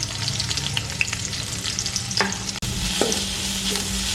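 Mustard seeds, ginger and garlic frying in hot oil, with a steady close sizzle and crackle, occasional pops and stirring, and no voices.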